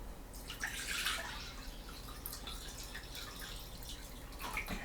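Water pours and trickles into a bowl, a faint splashing stream with a louder burst near the start and dripping sounds that continue throughout, no speech.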